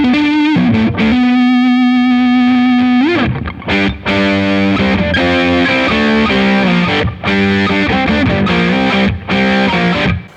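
Electric guitar pushed through a Boss BD-2w Blues Driver pedal at high gain, heavily compressed tone: a held bending note, then a loud run of choppy chords and riffs with brief gaps, no voices.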